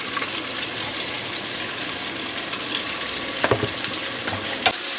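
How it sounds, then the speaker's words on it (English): Ribs for southern fried ribs crackle and sizzle steadily in hot oil, a dense continuous fry with a few sharper pops and clinks near the end, no voices over it. "I'm going to fry these up and meet you back here to pull them"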